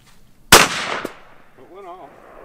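A shotgun shell fires once during a turkey hunt, loud and close, with a sharp blast followed by a brief echo and trailing rumble, then a voice speaks briefly afterward.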